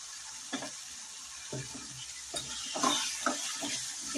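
Cut eggplant pieces sautéing in hot oil for a Tamil kara kuzhambu, a constant close sizzle broken by repeated scraping stirs of a spatula against the pan, no voices.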